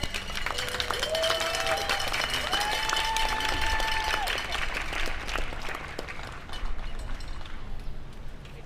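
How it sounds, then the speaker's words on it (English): Scattered applause and a few cheers ring out from a crowd at a workers' day rally, while some whistles or calls rise and fall over the clapping, which thins out gradually. "If we could give him a round of applause."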